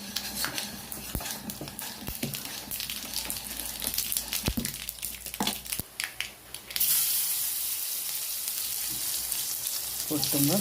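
Hot oil frying in a pan while a mango curry is cooked, first a run of sharp crackling pops and spits, then a sudden loud, steady sizzle as ingredients hit the pan, close and continuous to the end.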